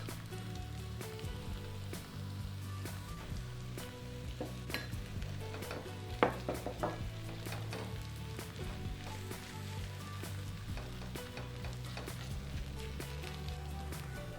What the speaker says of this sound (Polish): Wylewam delikatnie jedno jajko.